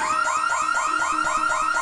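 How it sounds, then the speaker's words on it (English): Home security alarm set off by someone stepping on a pressure pad, blaring a loud, steady warbling electronic wail that sweeps up and down in quick regular cycles, close and continuous with no talk. "you're standing on a pressure pad which is connected to this alarm"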